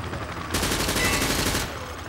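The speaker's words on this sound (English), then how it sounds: "Private, hit the target through the wood panel." A sustained burst of rapid automatic gunfire in Call of Duty: Modern Warfare 2, shots fired through a wood panel at a target, loud and close for over a second and then stopping abruptly.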